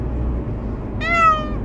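An anxious cat meows once, a single drawn-out, fairly loud cry, heard during a car ride over low, steady engine and road rumble.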